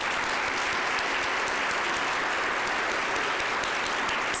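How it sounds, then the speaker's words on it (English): At an education awards event, a crowd gives college heroes a continuous round of applause, an even wash of many hands clapping heard alone. "Let's give another round of applause to our college heroes."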